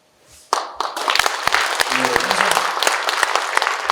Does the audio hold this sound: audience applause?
yes